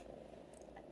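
A pet cat purrs steadily while being petted, a soft continuous low rumble close by, with a faint brief rustle near the end.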